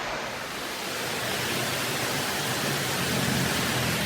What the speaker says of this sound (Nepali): यस्तो पानी पऱ्यो